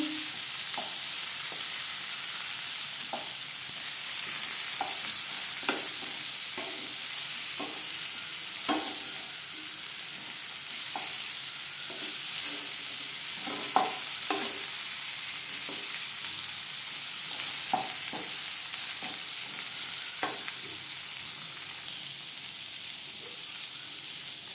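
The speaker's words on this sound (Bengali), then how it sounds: "একটা সাইড ভাজা হয়ে গেলে অপর সাইডটা উল্টে দেবো" Pointed gourd (potol) frying in oil over low to medium heat for traditional Bengali tel potol, with a steady dense sizzle broken by frequent soft crackles and pops, close and continuous without any talk.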